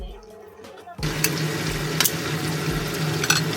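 Shrimp frying in a pan with garlic, a steady crackling sizzle that starts abruptly after a second of quiet and continues close and fairly loud, with a few sharper pops and spatters.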